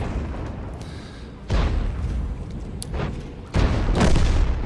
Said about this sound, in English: I'm gonna go ahead and actually get ready to shoot at these guys, and hopefully I can hurt them